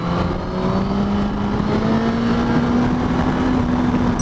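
Suzuki GSX-S1000GT sport-touring motorcycle with a 152-horsepower engine accelerating in B mode, a steady rising engine drone with climbing pitch heard up close and continuous, with no talking.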